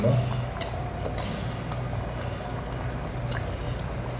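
Water that is already boiling hard in a pot for camel biryani, just after rice goes in, gives a steady, close bubbling and simmering roar with faint drips. It runs evenly through the whole clip, and no one speaks.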